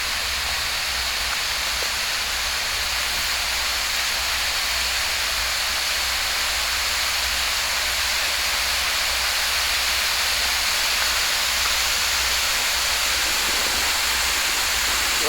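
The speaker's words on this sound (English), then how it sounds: "Pretty little waterfall coming down right next to the road." A small roadside waterfall on Power Creek Road near Cordova, Alaska, a constant, loud, close rush of falling water with no voices.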